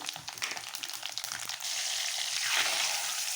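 Mustard seeds, cumin and lentils frying in hot oil make a quiet, steady crackling sizzle. Small spluttering pops come early, then a smoother hiss carries on alone.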